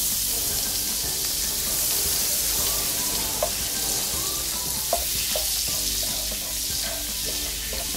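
Butter sizzles in a pan while cooking garlic butter crabs, a steady close frying hiss with a few faint clinks and stirring touches throughout.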